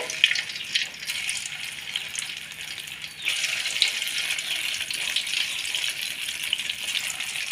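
Meal maker kola balls frying in oil over a medium flame, giving a steady, fairly loud sizzle and crackle throughout with no voices.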